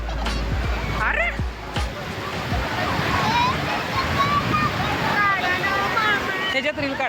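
Sea waves wash in steadily at Ganpatipule beach beside the temple, a continuous surf wash with splashing, as voices and shouts from nearby people carry over it.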